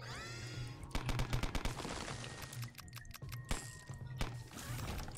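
Rapid bursts of gunfire from a modded Binding of Isaac Repentance game, dense volleys of sharp cracks over a steady electronic music bed, with several clustered strings of shots.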